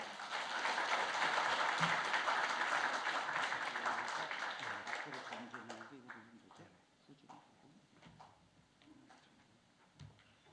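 A church congregation claps to welcome a visiting pastor at a Sunday afternoon worship service. Loud, full applause fades over about six seconds, then scattered claps give way to someone speaking.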